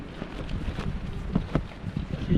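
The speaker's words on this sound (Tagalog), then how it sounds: "Napakalakas po ng hangin." Strong, cold wind gusting through a hammock campsite at Kindao, Malico in Pangasinan, a steady loud buffeting rush with heavier gusts near the end, no talking.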